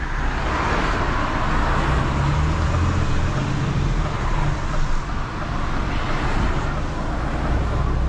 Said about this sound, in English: Friday night traffic.